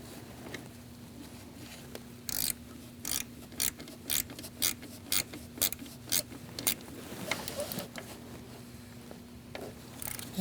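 A ratchet tightens the VVT solenoid bolt on a 2002-2006 Toyota Camry engine, clicking in a run of quick, evenly spaced bursts up close over a faint steady hum.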